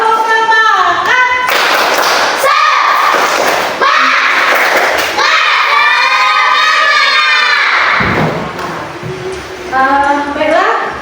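A school class performs a rhythmic 'tepuk semangat' clap, loud, close chanting voices mixed with bursts of group clapping in a steady pattern.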